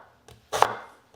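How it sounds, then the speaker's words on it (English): A knife chops a red onion finely on a cutting board in a home kitchen, one soft tap followed by a louder, sharper chop, close and alone. "I chop the onion a bit finer than all other vegetables"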